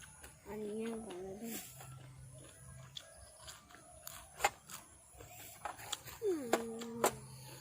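Someone eats a crunchy, spicy Thai pounded papaya salad, with close, sharp crunches and chewing bursts scattered over the clip. A faint voice and other background sounds are also present.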